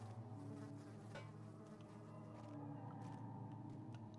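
Loud, continuous insect buzzing in the horror video game Amnesia, a steady droning hum that persists throughout without pause, no speech over it.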